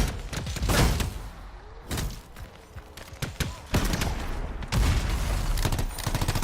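The Ranger's weapons let loose in Anthem, a dense run of rapid gunfire bursts and thumping impacts in several loud clusters with short gaps between them.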